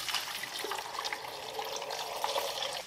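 Water pours into a blender for an orange smoothie, a steady soft splashing trickle lasting a few seconds with no talk.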